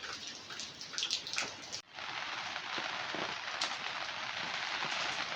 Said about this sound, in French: on entend beaucoup la pluie là